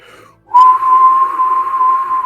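A train whistle sounds in a single sustained, steady tone with faint higher harmonics, moderately loud and holding for nearly two seconds after a brief quiet lead-in; no one speaks over it.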